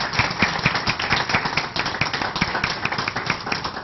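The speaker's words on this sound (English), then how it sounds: "give a round of applause for Tom's role in his community" A room of people at an engineering advisory committee meeting clap together in a sustained round of applause, a busy patter of many hands at even volume with no voices over it.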